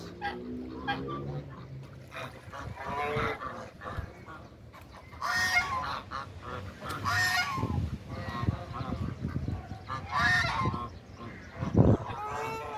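A flock of geese on a green river honks repeatedly and loudly while being fed bread, overlapping calls rising and falling close by, with brief human voices now and then.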